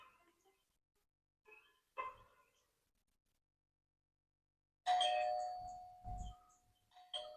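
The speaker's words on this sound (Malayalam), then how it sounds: "കോളിംബല്ലോ." A doorbell rings in a tense scene from the Malayalam movie Balan: The Boy, a loud chiming ding-dong bursting out of near silence after a few faint, muffled sounds, followed by low dull thumps.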